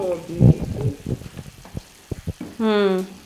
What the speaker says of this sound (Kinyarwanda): turabanza tukazireka zikabira nuko nari ndi kuzigaragura kugira ngo zibashe gufata akara neza